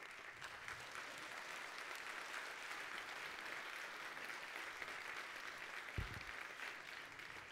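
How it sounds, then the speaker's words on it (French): Audience applause at a New Year's greetings ceremony for the population, a steady broad wash of clapping throughout, with a brief low thump near the end. "Aurélie Perrault et Virginie Blancard, que vous pouvez applaudir"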